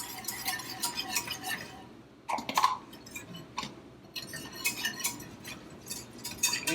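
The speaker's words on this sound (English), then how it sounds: "Whisking, whisking, whisking as you're pouring it in." A whisk scrapes and clinks rapidly against a pan while milk is stirred into a roux for macaroni and cheese, a fast, close, rhythmic rattling broken by one short pause.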